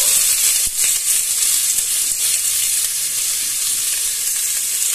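Onions sizzle and fry steadily in a pan while cooking red radish thoran, a continuous close, fairly loud crackling hiss with a brief stir near the start and no talking.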